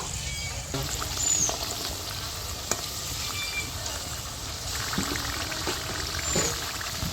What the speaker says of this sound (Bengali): আর এই প্যাটিসের 2 পিঠ খুব ভালো করে ভেজে নেব